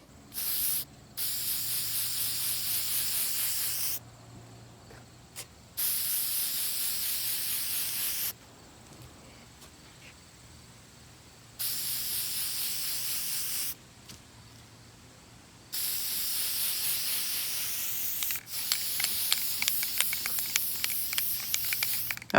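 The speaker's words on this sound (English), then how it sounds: "I used my Rustoleum 2X Clear spray paint and gave it 2 generous layers of clear spray paint as that cup's sealer." Rustoleum 2X Clear spray paint sprayed onto a cup as a sealer coat, in four long hissing bursts separated by silent pauses, the last one sputtering and uneven as the can empties.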